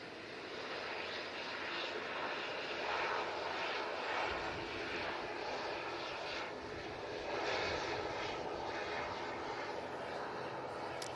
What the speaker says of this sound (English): Lovely touchdown from the KLM